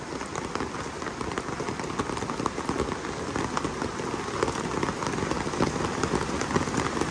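Heavy rain pours steadily in a dense, hissing wash of drops on surfaces, unbroken and moderately loud, with no voices.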